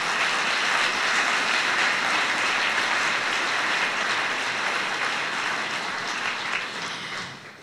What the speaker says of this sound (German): darf um einen Applaus bitten